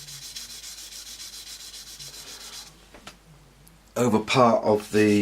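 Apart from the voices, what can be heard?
sanding sponge rubbing a plastic model kit seam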